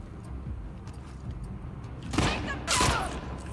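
Gunfire in The Last of Us Part II gameplay: a couple of sharp, loud shots burst out near the end, over a low background rumble.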